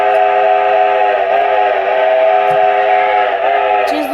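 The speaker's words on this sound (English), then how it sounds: "Here's the whistle." Whistle from a Lionel Pennsylvania Railroad 4-4-2 Atlantic model steam locomotive running in TMCC command mode: a loud, steady multi-tone chime held alone for about four seconds, with a brief dip in the middle.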